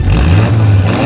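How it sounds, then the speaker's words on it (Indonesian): A turbocharged car engine revs briefly up close, a loud low rumbling drone that rises slightly in pitch over about a second, with no talk. "kita dengerin suara mobilnya sama-sama. 3, 2, 1. Kita gas ya, tipis-tipis saja."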